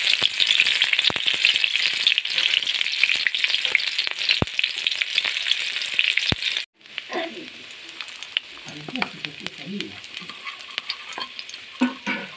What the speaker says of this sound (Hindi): मिर्च डाल देंगे,